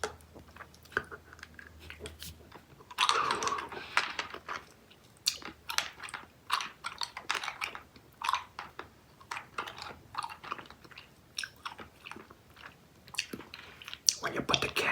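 Crunchy Mike and Ike sour fruit candy being bitten and chewed close to the mic, with repeated sharp crunches and wet mastication clicks in an uneven rhythm, and no talking.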